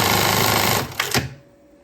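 A sewing machine stitches the straps of women's panties, a loud continuous whirring run that stops abruptly after two quick clatters, heard up close without talk.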